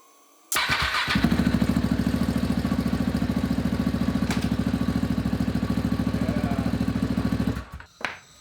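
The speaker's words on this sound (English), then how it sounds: "I'm going to start the bike up, put it in gear, and see" A KTM 690 single-cylinder motorcycle starts up abruptly and settles into a steady, loud, close-up idle with a rapid even thump, then cuts off near the end, leaving a couple of brief mechanical knocks.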